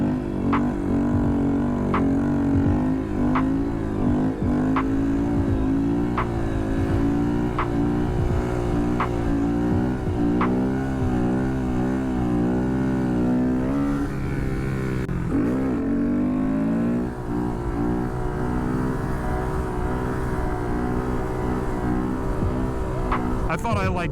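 A motorcycle engine revs hard and steadily through a second-gear wheelie, its loud harmonic drone rising and falling with the throttle, with a brief dip and surge partway through and no talk over it.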